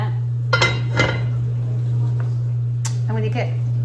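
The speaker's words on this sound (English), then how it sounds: "And we'll put a little lid on it." A lid is set on a cooking pot of boiling liquid with a few light metallic clinks and clatters, close by, over a steady low hum, while a person talks.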